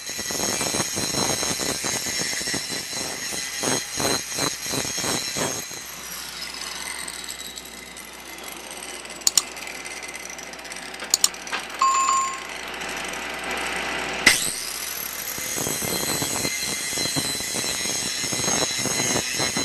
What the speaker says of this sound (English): Now's a good time to take your angle grinder and put a nice bevel on these edges.